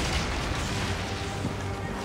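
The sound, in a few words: catapults firing from ships in the video game Assassin's Creed Origins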